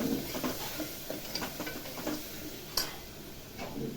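Ground black masala roasting in oil in a pan, a faint, low sizzle with soft intermittent stirring scrapes and one sharp utensil click.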